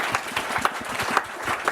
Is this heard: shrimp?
no